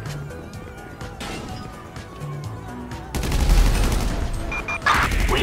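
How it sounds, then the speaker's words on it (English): Repeated gunfire at police near South Los Santos International Airport in the GTA video game, rapid shots in clusters that grow louder and denser with crashing impacts in the second half. "We have shots fired at an officer in South Los Santos International Airport."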